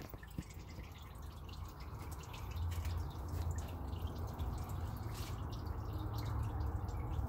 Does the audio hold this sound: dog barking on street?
no